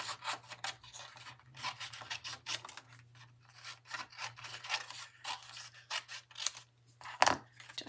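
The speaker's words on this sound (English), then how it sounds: "Let me grab my scissors and just trim these out." Scissors snip and rasp through die-cut cardstock pieces for a handmade card, giving a close run of irregular cutting and rubbing strokes with short pauses, no talking.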